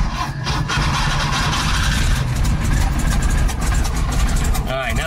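A freshly installed VW Type 3 engine runs loud and close with a rough, steady idle throughout, while a voice speaks over it toward the end.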